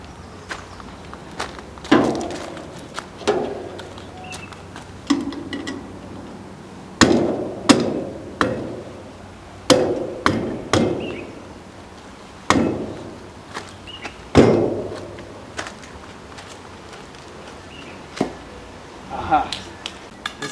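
A solar Sun Bucket Cooker dish is hammered to anchor it firmly into the ground outdoors, with sharp, close hammer blows landing in irregular bursts, each ringing briefly, and faint voices now and then in the background.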